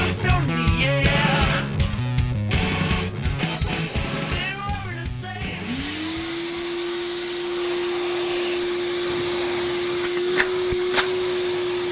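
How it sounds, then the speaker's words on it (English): A wall-mounted vacuum cleaner switches on after a stretch of clattering and rustling, then settles into a steady, loud motor whine that runs on alone. "So we've got the wall mounted vacuum ready to go"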